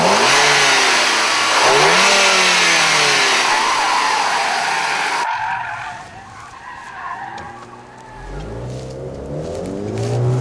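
A Volkswagen Golf GTI with a turbocharged direct-injection engine accelerates hard with rising engine notes and tyre noise, then the sound cuts to a quieter passage before revs climb again.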